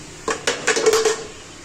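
A metal lid set onto a pot of curry on a gas stove after the flame is switched off, giving a few short clanks and a ringing scrape, close and moderately loud.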